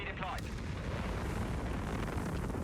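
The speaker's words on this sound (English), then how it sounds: "One of their men dies though, thanks to the heavy artillery" Heavy artillery shelling in the World War II strategy game Company of Heroes 3, a dense continuous rumble of explosions with a sharper burst at the start, loud and sustained.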